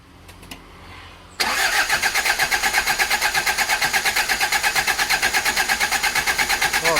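An Isuzu Panther 2.3 diesel engine with low compression, heavy oil consumption and weak power cranks and fires abruptly, then settles into a loud, steady, rattling idle with a fast even clatter, close up and without talk.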